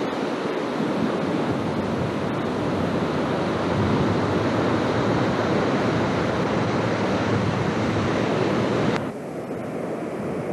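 Ocean waves and wind at Doheny State Beach near Dana Point form a loud, continuous roar of surf and gusting wind buffeting the microphone, dropping suddenly in level near the end.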